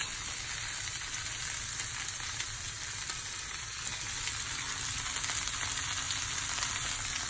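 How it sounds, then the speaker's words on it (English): Marinated vegetables sizzle and crackle in a hot pan while being stirred, a constant close frying hiss with faint scraping, no talk over it. "Stir 2 to 3 minutes."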